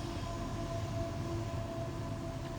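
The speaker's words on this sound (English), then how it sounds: "You can probably hear the freight train in the background as I live right next to a train station." A freight train passes beside a train station, heard as a faint, steady low rumble with a few thin tonal whines, distant and continuous throughout.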